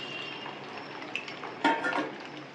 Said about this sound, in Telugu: ఇప్పుడు ఇదే కడాయిలో ఆయిల్ వేసుకుని ఉడికించుకున్న చికెన్ని ఫ్రై చేసేసుకోవాలండి